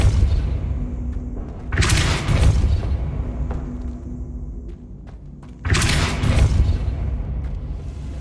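Two heavy booming force-push blasts from the Depulso spell in Hogwarts Legacy, each a loud rumbling thump that trails off, set against a low game ambience.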